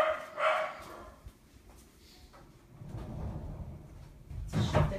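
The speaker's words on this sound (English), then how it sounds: "I can hear the dogs for sure barking" Dogs bark indoors, a short burst near the start and another near the end, muffled and moderately distant, with quieter knocks and room noise between them.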